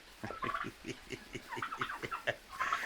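A pet turkey on a farm chirps and clucks in a quick run of short, close calls, some sharper and higher, with no talk over them.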